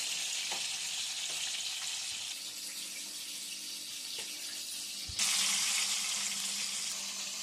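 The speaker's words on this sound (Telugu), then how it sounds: "ఇప్పుడు దీన్ని ఫ్రై చేస్తున్నాం గుత్తి వంకాయ కూర." Stuffed brinjal (gutti vankaya) curry fries in a pan with a steady broadband sizzle, a few soft stirring taps, and the hiss jumping louder near the end; no one speaks.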